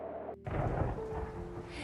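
Cartoon sound effect of heavy, icy winter rain with thunder: a short lull breaks into a deep rolling rumble over a dense, steady downpour hiss that holds to the end.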